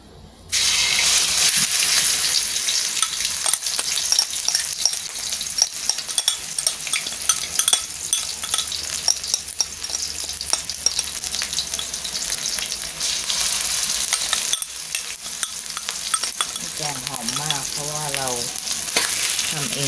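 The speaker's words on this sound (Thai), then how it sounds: "น้ำมันเริ่มอุ่นนะแล้วก็ใส่เครื่องแกงไปเลย" Thai curry paste fries in warm oil with a loud, dense, continuous sizzle. Occasional stirring scrapes run through it, and a brief whistling tone rises near the end.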